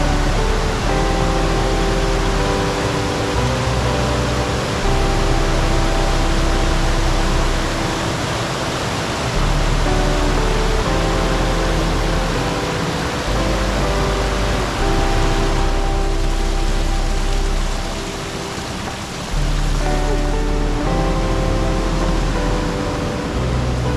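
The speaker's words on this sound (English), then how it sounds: "waterfall coming out of the cave there" A waterfall pours out of a cave near Blanchard Springs, making a loud, constant rushing roar that fills the scene and barely changes from start to finish.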